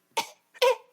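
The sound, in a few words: voice imitating Professor X's cough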